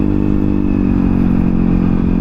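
A Honda Ruckus scooter rides on a road in the morning, its small engine droning loud and close with steady wind and road rumble throughout.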